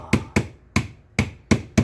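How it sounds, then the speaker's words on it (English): Hammer pounding pistachio nuts and other nuts in a kitchen during baking, six sharp, loud, close blows at slightly irregular intervals, each a hard thud with a short decay and no talking. "I'm going to beat up my nuts. I love this. It's like Thor's hammer."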